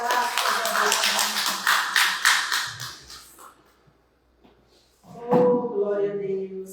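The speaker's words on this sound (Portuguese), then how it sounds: "E as palmas para o Senhor" Congregation at a church communion service clapping in rhythm, loud and close for several seconds, then fading to near silence before a voice and renewed sound return.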